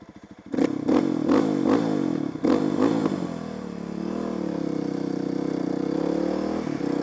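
A small motorcycle engine blips in a series of sharp throttle bursts, then settles into a steady idle, close and loud with no talking.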